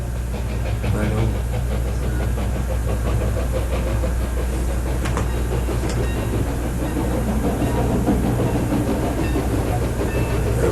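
A heavy, continuous rumble and rattle of a train rolling past in 1940s Barrie, loud and steady throughout, with faint voices mixed into the noise.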